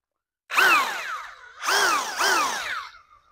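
A DeWalt power drill tightens something down in three whining bursts, each revving up and falling off. The whine is loud and close, with a short pause between the first burst and the second.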